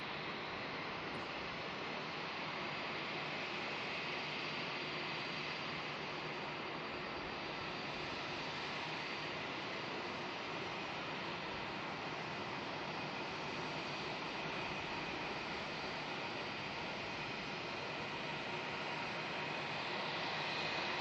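A jet airliner rolls past at Melbourne Airport, a loud, steady broadband engine roar that holds constant over the whole stretch with no voices.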